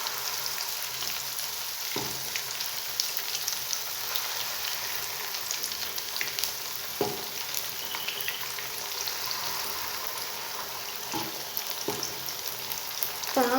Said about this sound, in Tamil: அடுப்பை சிம்மில் வச்சு வறுத்து எடுத்துக்கோங்க.